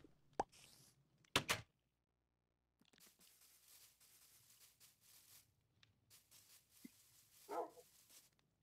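A Minecraft Bedrock Edition wolf gives a few sharp, separate barks, loud and close, amid sparse game noises with gaps of silence.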